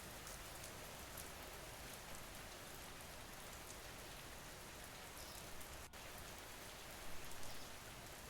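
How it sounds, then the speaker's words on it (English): Steady rain from a background rain video pours down as a constant, dense hiss of drops on a surface, fairly quiet and unbroken, with a brief heavier patch near the end and no one talking. "We're gonna get rid of this rain video though and go back to the regular background."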